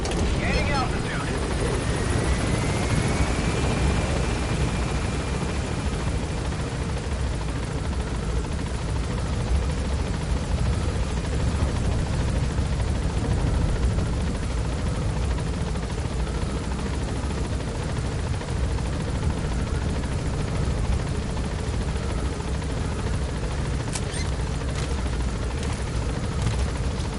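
An extraction helicopter in the video game Metal Gear Solid V takes off with a constant, close, heavy rotor thump and engine roar, with game voices talking over it.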